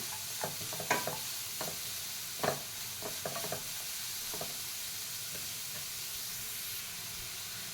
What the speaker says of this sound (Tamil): நல்லா வறுத்துக்கோங்க கேரட்டு நெய்யில்